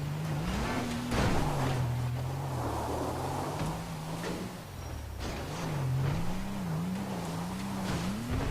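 Engine of a weak car straining up a hill in Grand Theft Auto 5, a steady droning hum whose pitch wavers up and down over continuous game background noise.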